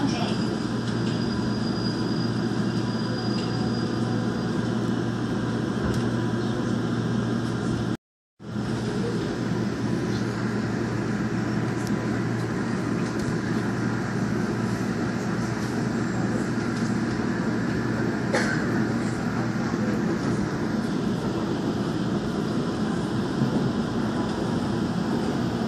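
Seoul Line 1 express train on the Yongsan rapid run from Sinchang rumbles continuously at close range, a steady low drone with rail noise, broken by a brief dropout; an onboard announcement voice speaks over it.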